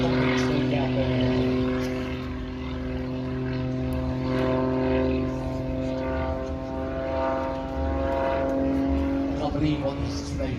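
A propeller aircraft flies an aerobatic display at the Midlands Air Festival, its engine holding a steady, fairly distant droning hum that rises and falls slightly as the plane tumbles.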